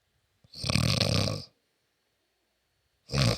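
A voice imitates snoring: one long rasping snore, a pause of silence, then the start of another, close and loud.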